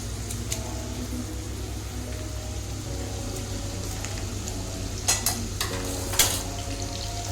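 Green chillies fry in a pan while pulihora is prepared for the Bhogi festival, giving a steady, close sizzle with a few louder crackling spits and stirring scrapes near the end.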